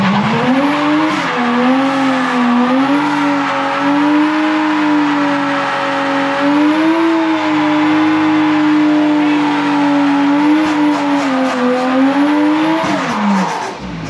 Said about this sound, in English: He did a decent little burnout